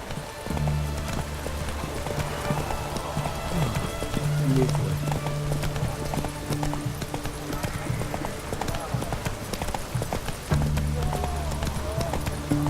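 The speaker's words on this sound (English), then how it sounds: "Run, Roach." Roach, Geralt's horse in The Witcher 3, gallops with a steady, rhythmic clip-clop of hooves that continues throughout, close and clear over sustained soundtrack tones.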